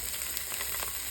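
Sausage browns in a very hot pan with a continuous, close, bright sizzle and crackle and no voices.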